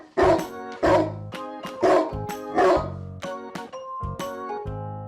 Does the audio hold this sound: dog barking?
yes